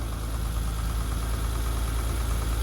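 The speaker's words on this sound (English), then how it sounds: "Now that is what an M20 sounds like with a proper valve adjustment." A BMW E30 325iS with its M20 engine idles after a valve adjustment, giving a steady, even, close-up idle with a low rumble and no talking.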